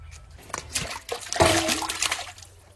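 Pieces of fresh river fish are rinsed in water with salt, giving close splashing and sloshing with irregular swishes and drips that peak midway and then ease off.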